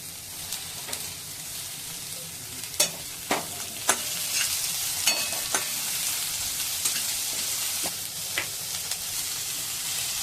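Vegetables crackle and sizzle in hot tempering oil for phodnicha bhaat, with a steady, loud hiss broken by sharp spatter pops and stirring scrapes.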